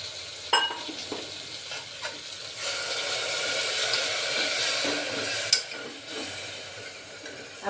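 Vegetable curry with Kathiyawadi masala sizzling and frying in a pan as water is poured in and a spoon stirs, with scraping clinks over a steady hiss that swells and fades, close and moderately loud, no voices.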